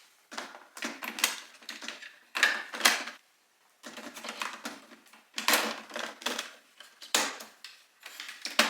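An inkjet printer producing a quality printout, with repeated mechanical buzzing passes of the print head in rhythmic bursts separated by brief pauses, moderately close and fairly quiet.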